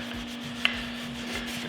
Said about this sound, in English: So I'll quickly wax that so we can see it all pop